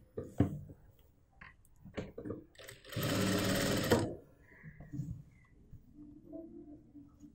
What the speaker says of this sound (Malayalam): ഒട്ടും ചുളിവ് വരാതെ പതിയെ പതിയെ ഇതുപോലെ അങ്ങ് സ്റ്റിച്ച് ചെയ്ത് കൊടുക്കുക.